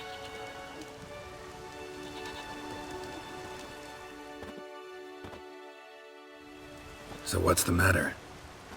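Steady rain falls through a village scene in The Witcher 3: Wild Hunt, a soft continuous patter beneath a voice, briefly thinning before a louder burst near the end.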